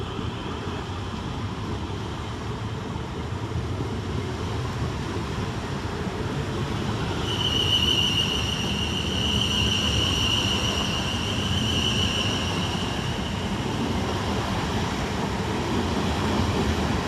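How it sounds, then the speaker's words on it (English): South Western Railway class 444 units pulling out of New Milton station, a long steady rumble of wheels and traction with a high squeal rising partway through, heard from the platform. "Departing next from the station is 444-033 and 444-002, working the 1237 South Western Railway service"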